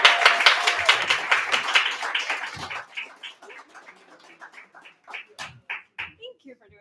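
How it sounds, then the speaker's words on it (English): An audience at a poetry night breaks into loud clapping that fades into a few scattered, sparser claps, with voices chattering over the tail end. "so let's clap louder."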